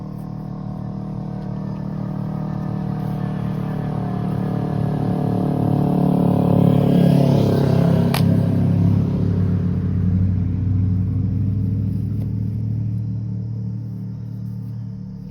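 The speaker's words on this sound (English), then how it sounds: "Here comes a motorcycle up the road." A motorcycle passes loudly along a road, its engine rumble swelling to a peak midway and then fading away, with no talking.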